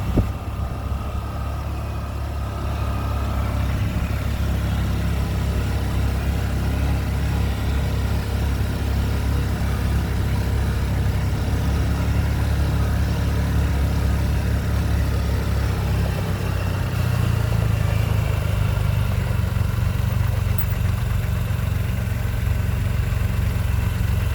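A tractor engine at an engine show runs steadily while plowing out in a field, a continuous low rumble that grows slightly heavier partway through, with no talk.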